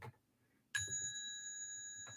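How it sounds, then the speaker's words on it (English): A small bell is struck once and rings with a clear, bright tone that sustains and slowly fades, with a faint tap near the end. "I'll sweeten it up with a little bell."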